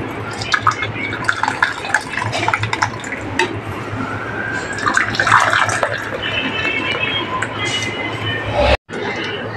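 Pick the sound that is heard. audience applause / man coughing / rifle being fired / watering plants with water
watering plants with water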